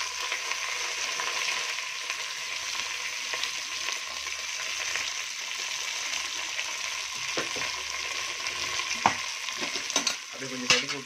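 Ground onions and green chillies fry for mutton biryani with bay leaf in the pan, a loud, continuous close sizzle with a few stirring scrapes and clinks toward the end.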